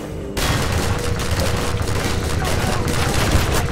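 Rapid, dense gunfire in the video game Half-Life 2, loud and continuous bursts filling the clip after a brief quieter start.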